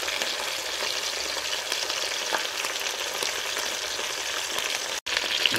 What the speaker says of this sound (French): Voilà, ma viande a bien grillé.